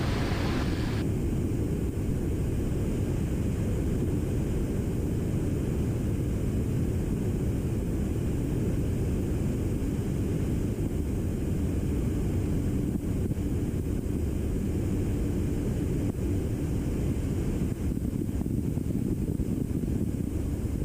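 Seaplane touching down on water during a low-altitude tour, a loud continuous engine and rushing wind roar from inside the aircraft, steady throughout with a slight shift as it settles onto the surface.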